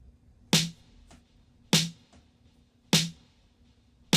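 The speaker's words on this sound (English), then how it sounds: "let me solo out my snare. So off, it sounds like this." A soloed snare drum sample, LFO modulation switched off, cracks four times at an even, slow pace, each hit sharp, bright and loud with a short decaying tail, a faint low hum between strikes.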